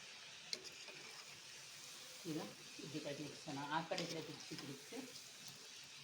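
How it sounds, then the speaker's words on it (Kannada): Potato finger fries drop into hot oil and sizzle in a steady hiss, with bubbling frying noise. A person talks over it throughout. "ಈಗ ಎಣ್ಣೆ ಕಾದಿದೆ ನಾನು ಈ ಫಿಂಗರ್ ಪ್ರೈಸ್ ಹಾಕ್ತಾಯಿದ್ದೀನಿ"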